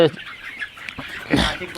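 Native country chickens clucking on a poultry farm in Dharwad, faint scattered calls with one louder squawk near the end, alongside some talk.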